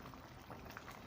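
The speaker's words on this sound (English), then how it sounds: "It's really boiling." Okazi soup, also called Ikwerre soup, bubbling steadily in a pot, with continuous soft popping and simmering at low level and no voices.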